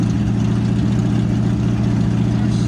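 A manual car engine idles during a driving lesson, giving a steady, loud, low rumbling hum that holds without change and has no talking over it.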